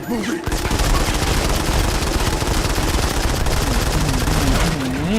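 Dense automatic gunfire rattles through a firefight in the Modern Combat 5 video game, rapid overlapping bursts that stay loud and continuous, with a voice talking over the shooting.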